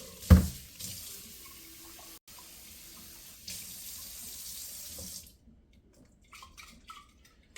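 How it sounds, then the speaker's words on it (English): Tap water splashing into a sink as broccoli sprouts are drained and rinsed in a kitchen, a steady rush after a sharp knock, stopping near the end with a few small drips and clinks. "we're going to drain it off and do a rinse"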